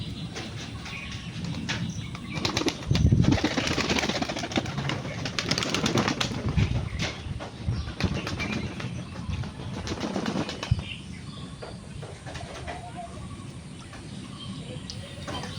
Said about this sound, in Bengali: এই পটর পায়রাটার চান করা শেষের মুহূর্তে